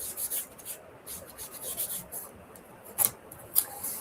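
Excess wax is rubbed off a handmade bookmark with soft, scratchy strokes, close and fairly quiet, ending in a couple of sharper scrapes.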